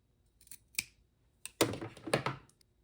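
A few quick scissor snips through fabric, then a longer run of close, crisp cutting strokes through the fabric.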